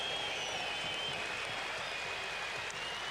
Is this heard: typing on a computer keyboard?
no